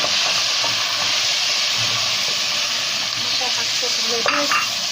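Chicken with garlic and spices for kabsa fries in a pot with a steady, loud close sizzle, a brief clink of stirring near the end and no talking.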